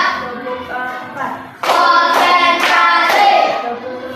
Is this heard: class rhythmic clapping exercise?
yes